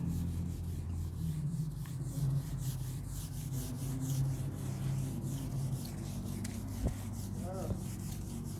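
Steady dry rubbing as writing is wiped off a classroom board, a continuous scratchy swish lasting several seconds with a few faint knocks, fairly quiet and close.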